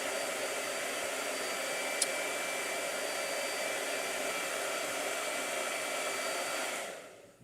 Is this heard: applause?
no